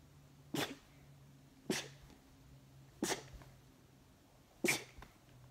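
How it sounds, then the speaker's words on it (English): A young person sneezes four times in a row indoors, sharp loud bursts spaced about a second apart with a faint background hum between them. "I sneeze a lot at once."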